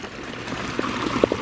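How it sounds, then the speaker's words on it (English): Water trickles softly through the undermined edge of a leaking lined garden pond, a low steady flow with a few small gurgles and drips near the end, heard close and alone. "Water's actually moving right through there."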